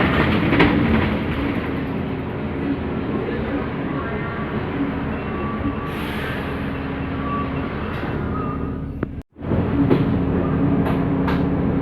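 A KRL commuter train passes near Manggarai, Jakarta, with a broad rumbling roar and rail clatter that stays loud and steady before cutting off briefly near the end.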